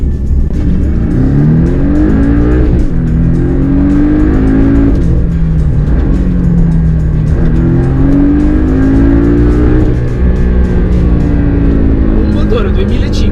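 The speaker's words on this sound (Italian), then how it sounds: "sopra i 6000 giri, quando inizia a urlare, a me questo sound ricorda molto il V8 biturbo delle McLaren" A Porsche 718 Boxster S with its turbocharged engine and roof up revs hard toward about 7,600 rpm. It sounds loud and close, climbing in pitch several times in a row, each rising howl dropping off before the next.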